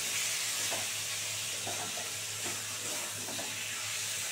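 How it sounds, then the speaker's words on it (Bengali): Water poured into a hot pan of sizzling egg poach bati chorchori, a Bengali spiced egg dish, giving a steady bubbling hiss with faint stirring scrapes throughout. "এবার আমি জল দিয়ে দেবো।"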